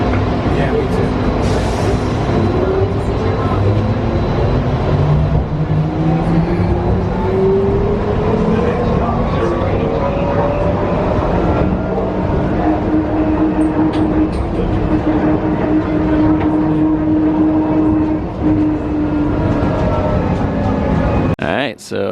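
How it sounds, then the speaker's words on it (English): Skylink airport people-mover train departing, a steady rising electric whine and rumble that fills the clip, heard from on board under a brief spoken remark. "This train is departing."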